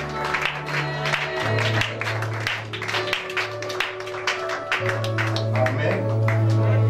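Worshippers at a church adoration service clap steadily to acclaim Jesus, a busy wash of applause running throughout under sustained musical tones from an instrument.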